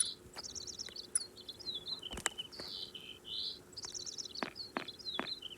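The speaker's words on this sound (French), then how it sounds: "C'est le chant des oiseaux." Birds sing in quick, high chirping phrases over a constant low hiss of outdoor ambience, with a few sharp ticks scattered throughout.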